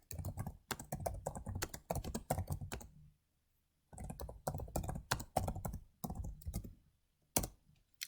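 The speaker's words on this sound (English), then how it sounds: "I'm going to type the first question in our questionnaire." Typing on a computer keyboard, close and clear, in rapid bursts of clicking keystrokes separated by a short pause and ending with a few isolated key presses.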